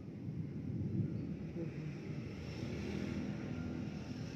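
Low, steady wind rushes outdoors ahead of an approaching rainstorm, a faint continuous roar with slight swells and no voices.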